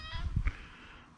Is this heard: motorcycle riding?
no